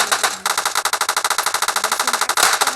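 Rapid automatic gunfire in the game PUBG, a close, loud, evenly spaced string of shots rattling nonstop for a few seconds with a brief pause and a final heavier burst.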